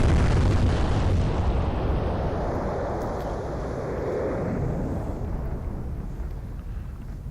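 Naval combat video game with a burning ship hit by torpedoes: a dense, heavy roaring rumble of explosions and fire, loud at first and slowly easing, with a faint wind-like hiss.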